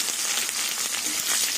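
Potatoes frying with chopped onions and black cumin in hot oil, a brief, steady, broadband sizzle heard close, with no one talking.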